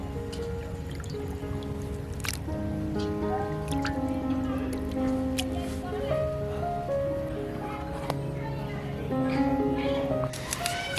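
Water drips and trickles off freshly washed sardines as they are lifted from a bowl, soft close splashes and dribbles in an irregular rhythm, fairly quiet, with faint tonal background music.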